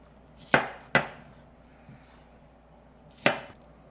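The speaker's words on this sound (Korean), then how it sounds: "네, 오이는 이제 다 썰었고요." A knife cuts cucumbers into quarters on a cutting board: three sharp, close chops, two in quick succession and a third after a pause, with a quiet room between them.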